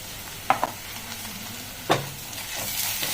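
Ginger garlic paste frying with onions in a pan for chicken samosa filling, a soft continuous sizzle broken by two or three sharp scraping stirs of a spoon, close and alone.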